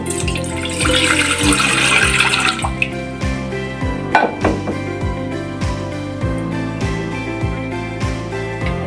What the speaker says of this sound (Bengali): এখন আমি এক কাপ পানি দিয়ে দেব